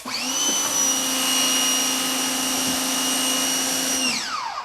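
A HART 1800 psi electric pressure washer runs with a loud, steady motor drone and high whining tone, continuously, then winds down at the end.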